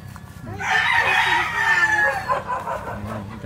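A white gamecock rooster at a game farm in Taytay, Rizal gives a loud, close crow that rises and trails off, followed by softer clucking, with faint farm ambience around it.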